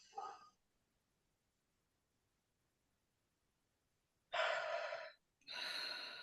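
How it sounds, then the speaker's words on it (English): Deep breaths drawn in during a breathing exercise, one short inhale at the start, then a long silence before a strong, audible breath in and another following closely, loud and near. "deep breath in"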